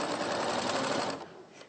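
A sewing machine stitches up a small fabric bunny or goose softie, running as a dense, steady close whir that eases off slightly near the end.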